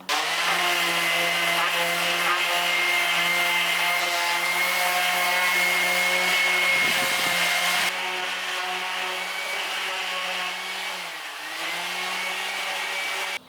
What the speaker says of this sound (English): I'm going to drill all the holes for the other planks